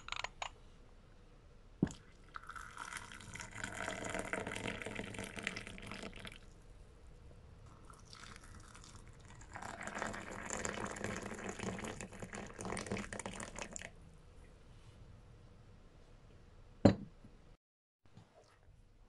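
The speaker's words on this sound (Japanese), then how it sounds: "お湯を入れてみます。" Hot water poured over an opened spice tea bag of black tea, ginger, cinnamon, black pepper, cardamom, clove and star anise: two soft, steady streams of pouring liquid, a few seconds each, quiet and close, followed by a small clink.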